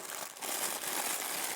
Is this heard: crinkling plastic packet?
yes